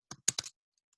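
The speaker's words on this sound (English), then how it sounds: "let me type this out." A few quick keystrokes on a computer keyboard, close and crisp, clustered in a short burst and then silence.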